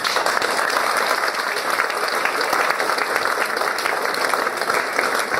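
Loud, dense applause fills an indoor gathering of the Ballinasloe World War One Heritage Group, a sustained roar of many hands clapping at a constant level for over five seconds with no speech.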